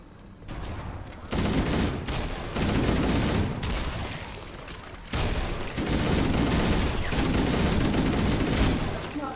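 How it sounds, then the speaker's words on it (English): Dense, chaotic bursts of gunfire and explosions in Halo's The Library level crash one after another, loud and close, forming a continuous barrage of booms and rapid shots. "There are a lot of fleshy explosions happening there."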